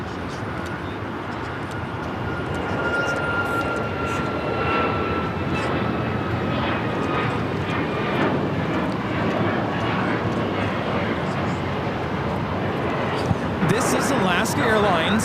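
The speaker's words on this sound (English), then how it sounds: "Airlines 1348 taking off to Puerto Vallarta on the 737 MAX 9" A Boeing 737 MAX 9 jet takes off from LAX, a loud, sustained engine roar with a descending high whine, while people talk over it throughout.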